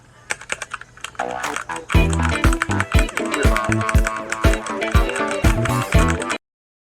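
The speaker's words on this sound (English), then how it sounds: "the red switches in this keyboard gave me a healthy dose of mechanical goodness" Rapid typing on a Redragon Fizz K617 mechanical keyboard with red switches, a close, busy run of clacking keystrokes that starts lightly, speeds up into a steady patter, then stops abruptly.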